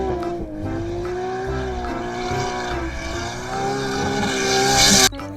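A toy racing car gives off a sustained whining engine tone that rises and wavers in pitch, fairly loud and continuous, ending in an abrupt cutoff and a brief clatter.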